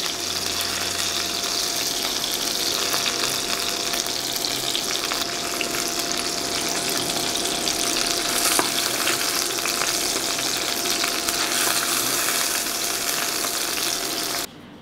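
Potato and minced meat dumplings frying in hot oil, a dense continuous sizzle and crackle holding steady and loud for about fifteen seconds before cutting off abruptly at the end.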